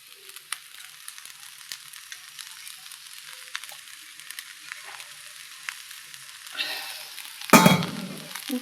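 A whole pot of curry is tipped into a hot pan: after a quiet stretch of faint kitchen noise, a hiss rises, then a loud splashing sizzle bursts out and keeps crackling close by.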